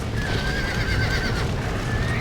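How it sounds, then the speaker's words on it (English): Horses neigh and whinny from inside a burning barn in the Red Dead Redemption game, one sustained shrill call running across the clip over dense crackling and hoof clatter, loud and close throughout. "Ride the last horse out of the burning barn."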